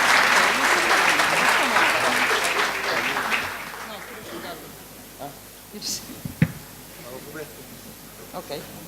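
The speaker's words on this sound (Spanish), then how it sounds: "un aplauso para nuestros invitados que nos acompañan" Seminar audience applauding invited guests, a loud burst of clapping that fades away over several seconds, with scattered voices and small noises afterward.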